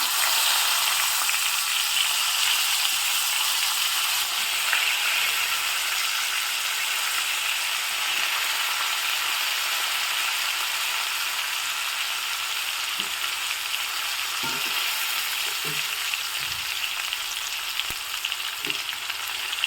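Chopped brinjal pieces frying in hot oil with a spice tempering for a brinjal rice, a continuous even sizzle with occasional soft clicks and scrapes of stirring, close and unaccompanied.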